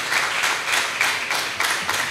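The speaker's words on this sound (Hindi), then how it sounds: "ज़ोरदार तालियां खुदा के जलाल के लिए" A church congregation bursts into loud applause, dense clapping surging in several waves with no one speaking.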